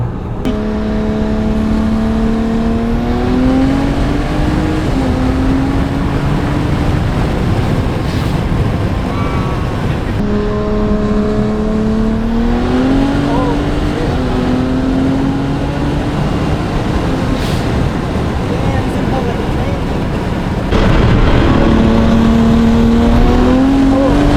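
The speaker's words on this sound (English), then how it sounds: "The twin turbos is what keeps that like smooth power curve." Inside a Toyota Supra with twin turbos, the engine climbs through repeated rising pulls, the revs sweeping upward, dropping at each shift and surging again, loud and close, with heavy wind and road roar underneath.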